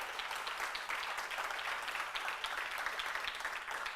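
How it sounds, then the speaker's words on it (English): Audience applause at the Alaska Governor's Arts & Humanities Awards ceremony, a steady, dense wash of many hands clapping together, sustained at an even level throughout with no talking over it. "So one more round of applause."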